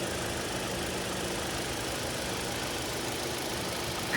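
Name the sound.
2016 Toyota RAV4 GXL engine idling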